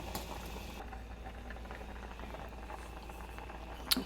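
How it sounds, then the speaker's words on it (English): A pot of water boiling with pasta in it, a faint, steady bubbling patter close by with a brief clink near the end, no voices. "You'll want to cook your pasta about 10 minutes. Keep an eye on it so it doesn't boil over."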